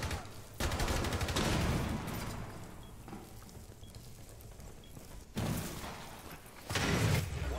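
Rainbow Six Siege gunfire: loud bursts of rapid shots at the start, a long sustained volley, then renewed heavy fire near the end, with a quieter stretch of distant firing in between.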